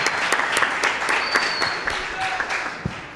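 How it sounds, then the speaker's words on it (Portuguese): Audience at the first RedeBURN interactive forum applauding its speakers: dense, steady clapping from a crowd, fairly close and loud, with a few brief voices and whistles cutting through. "Uma salva de palmas para eles"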